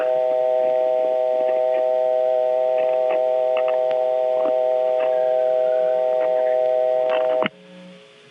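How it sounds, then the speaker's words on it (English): Steady telephone dial tone from the Tidewater Telephone Company office in Warsaw, Virginia, recorded in 1976, a loud continuous hum with faint clicks over it that cuts off abruptly near the end, leaving a quieter low tone. "This office has a really nice-sounding dial tone."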